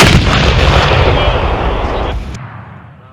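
An M777 155mm howitzer fires a single thunderous, close-range blast that rolls and rumbles away over about three seconds.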